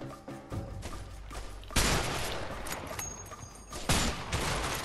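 Rifle gunfire in a battle scene in the video game A Way Out, loud, dense shots with sharp cracks around two and four seconds over a constant noisy backdrop, with no talk.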